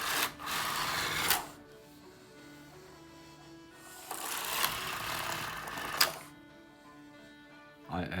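A knitting machine works fine weight 2 yarn into a sock at stitch size 4, giving close, rhythmic mechanical whirring and rattling in several runs of a second or two, separated by quieter pauses.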